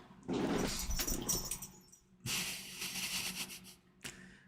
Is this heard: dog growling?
yes